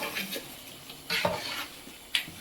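Chicken pieces being stirred in a cooking pan, a few short scraping and clinking strokes of a utensil against the pan, close and moderately loud, with a faint sizzle between them.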